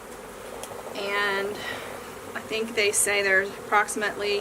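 A package of about 7,000 honeybees gives off a close, continuous buzz while a person talks over it.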